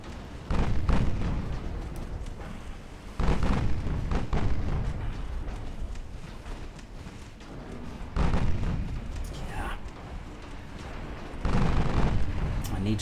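Torpedo detonations in the naval warship game Ultimate Admiral Dreadnoughts: several heavy, low booming blasts arrive at irregular intervals, each swelling loudly and then rumbling away beneath a continuous dull roar of battle.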